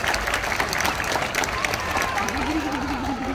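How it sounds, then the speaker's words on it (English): An audience applauds at a seal show, scattered clapping from a crowd that stays fairly soft and steady, with a voice talking over it near the end. "Let's give him a big round of applause."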